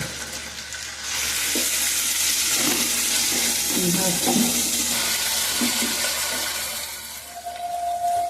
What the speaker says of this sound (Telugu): తాలింపు మసాలా చక్కగా ఏగుతా ఉందండి